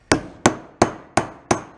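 Five sharp metallic hammer blows strike a bearing in steady succession, each a loud close crack with a short ringing decay, evenly spaced about a third of a second apart.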